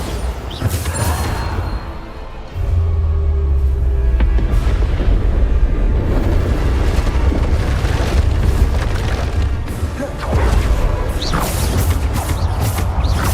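Bombarda blasting spells explode in Hogwarts Legacy, a loud run of heavy booms and crashing impacts over a rumbling, busy mechanical battle din, with no break in the noise.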